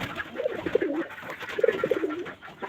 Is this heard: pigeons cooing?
yes